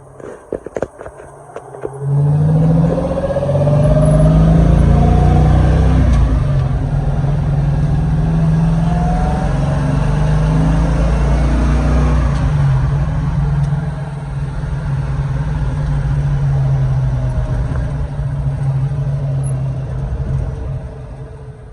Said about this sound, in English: I would like to give you guys a ride along in the 68 Mustang